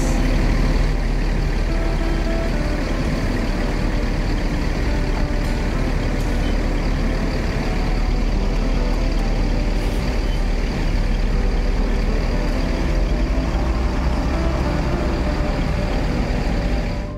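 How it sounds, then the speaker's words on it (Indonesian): A Gumarang Jaya Jetbus 3 coach built on a Mercedes-Benz 1626 chassis with automatic transmission pulls away, its heavy engine drone loud and steady throughout, with a faint hiss and beeping tones in the background. "Berangkatkan lagi Gumarang Jaya Jetbus 3 menuju Ranah Minang"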